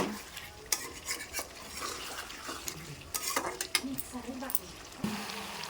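Chicken curry being stirred and browned in a pan: spoon scrapes and clatters against the pot over a steady sizzle, with brief louder knocks throughout and faint speech in the background.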